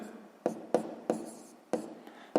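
Pen or chalk strokes writing a math expression for a sixth-grade algebra exercise, five crisp taps and scratches at a steady uneven rhythm, close and fairly quiet, with no voice over them.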